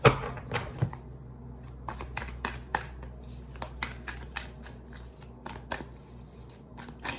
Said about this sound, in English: So I'm gonna just keep shuffling